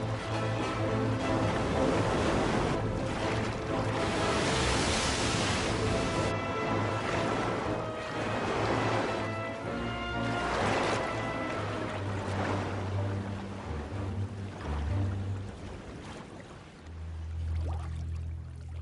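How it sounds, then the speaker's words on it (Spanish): A Spanish caravel breaking apart under wind and waves: continuous loud churning water and surging surf with rushing, crashing swells throughout, backed by a steady low tonal drone, no voices. "Agitada por el viento y las olas, la carabela española se rompe en pedazos."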